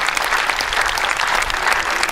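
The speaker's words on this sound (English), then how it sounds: "I just want to have another round for applause of all these good candidates we have here today" Audience at an election candidate event clapping together in a dense, sustained round of applause, loud and close with no voices rising above it.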